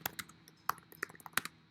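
Keys tapped on a computer keyboard in irregular bursts, sharp close clicks with brief pauses between them, no voices present.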